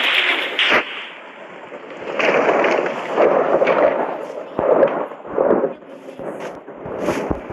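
Several muffled booming blasts with rumbling debris, irregularly spaced, like video game creeper explosions going off in quick succession.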